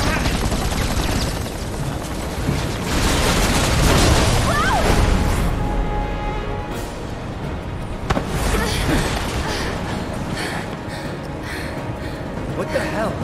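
Gunfire in Final Fantasy VII Remake, bursts of machine-gun fire and booming impacts amid battle noise, swelling around the middle of the clip, with characters speaking over it.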